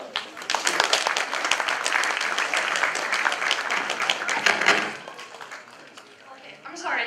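Audience applause for a presenter at a university event, a dense burst of clapping for several seconds that fades out, with people talking through it and a voice at the end.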